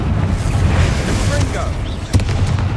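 A Confringo blasting spell goes off in Hogwarts Legacy, a loud, dense rumbling explosion that roars steadily and ends with a sharp crack near the end.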